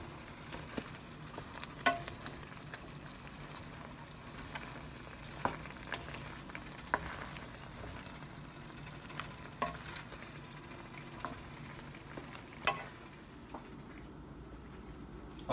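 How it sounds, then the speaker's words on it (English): Chicken adobo seasoned with black pepper fries in a pan while being stirred, a low steady sizzle broken by repeated sharp scrapes and clicks of the utensil against the pan, fairly quiet throughout with no talking. "Stir that up."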